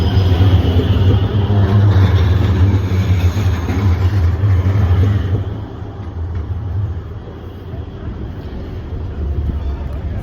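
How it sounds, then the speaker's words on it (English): Trams rumble past just off an old city centre, a loud low rolling rumble with street noise that eases off partway through and then swells again, heard nearby. "they've got all kinds of trams going around"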